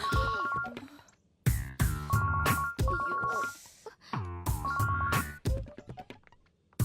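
A mobile phone plays a melodic ringtone in repeated tuneful phrases with short gaps between them, loud and close.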